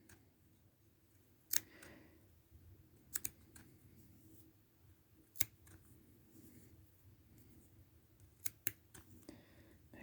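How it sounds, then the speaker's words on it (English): Small scissors snip tiny pieces of paper for a miniature dollhouse Valentine candy box, a handful of faint, crisp clicks scattered irregularly over a quiet background. "Snip your little pieces."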